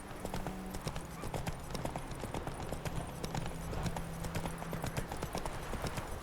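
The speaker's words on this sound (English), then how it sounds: "if I don't hold down canter and I just press forward, just got this little trot going on" Horse hooves trotting in the Witcher 3 video game, a steady close clip-clop rhythm that continues throughout at moderate loudness.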